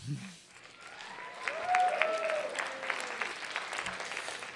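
Audience applause at a teen video awards ceremony, steady moderate clapping that swells and continues throughout, heard from within the room.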